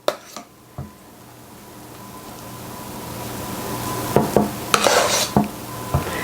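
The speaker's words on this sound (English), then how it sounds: "I want to kind of stir that in a little bit." Potatoes being stirred into a pork and apple pie filling in a pan, with a steady soft sizzle and a few clinks and scrapes of a utensil against the pan, growing busier toward the end.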